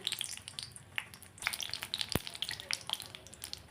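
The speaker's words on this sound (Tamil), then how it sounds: "மூணு ஸ்பூன் எண்ணெய் ஊற்றிக்குங்க காஞ்ச மிளகாய் வந்து ஒரு மூணு மிளகாய் போடுறேன் நான்" Three dried red chillies frying in three spoons of oil in a pan for peanut chutney, a steady crackling sizzle with sharp pops throughout.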